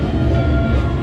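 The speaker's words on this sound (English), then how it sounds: "Here comes our train." The Runaway Railway ride train arrives at Disney's Hollywood Studios with a steady, loud rumble that runs unbroken for about a second.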